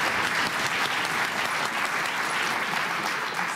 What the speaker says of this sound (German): Und Applaus, meine Damen und Herren.